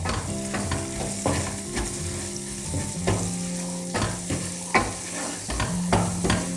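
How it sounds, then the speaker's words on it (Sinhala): Egg and chicken gizzard being stirred in a sizzling frying pan for fried rice, with repeated scraping strokes of a utensil against the pan over a steady close sizzle, with tonal background music. "මේ බිත්තරේ මෙන්න මේ විදිහට හොඳට කෑලි වලට කඩාගෙන මේ gizzard එක කලවම් කරගන්න ඕනේ"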